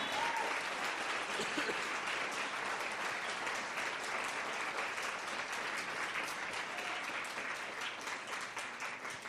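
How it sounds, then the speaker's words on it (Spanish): A church congregation claps and applauds steadily and loudly for the whole stretch, a dense continuous roll of clapping that eases slightly toward the end, with no one speaking over it. "Si tú le crees, dale ese aplauso bien fuerte."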